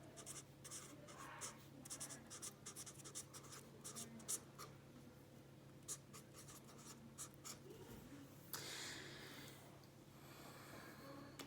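Pen scratching out an algebra problem on paper, quiet, rapid bursts of short strokes with brief pauses, close and faint, with a soft breath near the end.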